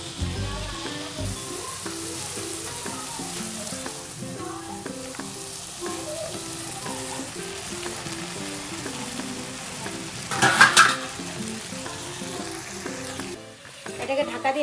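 Jackfruit frying in a pan while making prawn curry, a steady loud sizzle with stirring scrapes throughout, a brief burst of harsher spitting near the end, close up with no talk.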